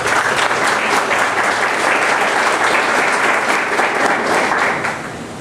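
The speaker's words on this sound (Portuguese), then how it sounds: "Queremos receber com uma salva de palmas calorosa" An indoor audience at a book launch event applauds warmly to welcome a speaker, a dense, loud wash of many hands clapping continuously before easing slightly at the end.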